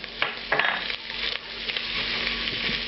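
Diced onion, red bell pepper and celery sauté in a hot pan for jambalaya, giving a steady close sizzle broken by a few scraping stirs and soft spoon knocks.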